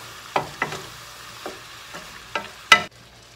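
Chicken with spices such as coriander and curry is stirred in a frying pan, giving six scraping, clattering strokes at an uneven pace over a low steady sizzle. No one speaks.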